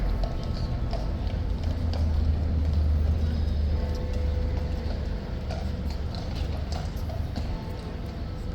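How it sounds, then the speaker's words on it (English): A horse's hooves clip-clop steadily on a busy London street, sharp and regular, over a constant low rumble of traffic. "To be honest, guys, Ormonde's probably the single most famous horse in London"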